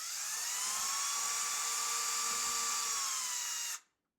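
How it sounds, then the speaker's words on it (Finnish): A power drill bores holes into a deer trophy mount, one steady high-pitched whine that holds for nearly four seconds and then stops abruptly, with no talk over it. "Porataan myös tänne taakse ja sama juttu. Ei porata läpi saakka."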